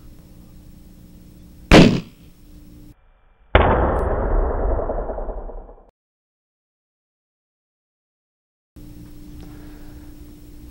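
A gunshot bursts a balloon set along a meter stick for a speed of sound measurement: one sharp crack near the start, then a second loud burst with a long decaying rumble, followed by silence.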